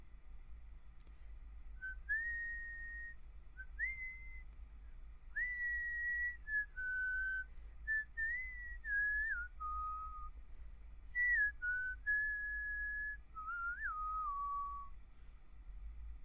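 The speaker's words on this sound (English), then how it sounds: "Can I try to whistle like an adult?" Someone whistles a series of short, wavering melodic phrases, clear and close, with brief pauses between notes.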